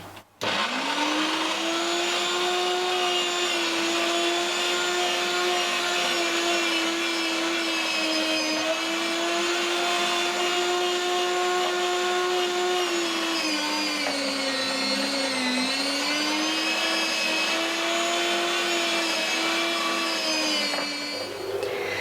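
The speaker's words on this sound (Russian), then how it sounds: "Овощи подготовлены, перекручиваем все через мясорубку." An electric meat grinder runs steadily as it minces hot peppers and vegetables, a loud constant motor whine lasting the whole stretch with a brief pitch dip partway through.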